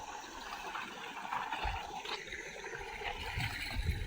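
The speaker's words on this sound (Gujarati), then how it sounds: "અત્યારે જો કપાસમાં પાણી પવાય છે." Irrigation water flows steadily through a cotton field on a village farm, a continuous close rush and trickle with small gurgling surges and no voices.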